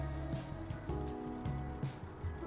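Steady low drone of a truck engine in American Truck Simulator, a continuous rumble with shifting tones and faint road noise, heard alone at moderate level.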